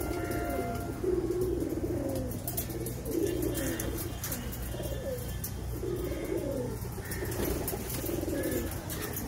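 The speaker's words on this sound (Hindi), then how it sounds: "ये टाइगर ब्रीड के कबूतर" Tiger breed pigeons cooing steadily in repeated soft, throaty phrases close by, with faint chirps and a constant low background hum and no talk.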